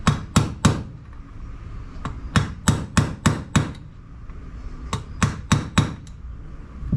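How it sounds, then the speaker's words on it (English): The nylon side of a mallet taps a new needle seat into a 17HP Briggs and Stratton carburetor, landing sharp close knocks in quick bursts of three to five, with short pauses between bursts. "We're just going to gently start tapping it, or driving it. I'm using the nylon side of this."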